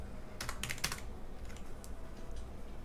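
Quick bursts of keystrokes on a computer keyboard during a Minecraft session, a cluster of clicks in the first second followed by a few sparser taps over a low steady room hum.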